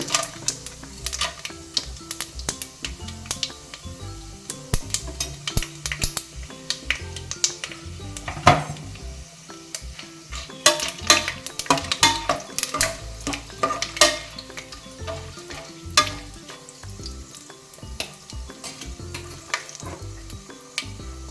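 Whole spices including fennel seeds and opened cardamom pods sizzle and crackle in hot oil in a pot for chicken biryani, a steady frying hiss with dense popping and occasional stirring clinks, close and continuous with no talking.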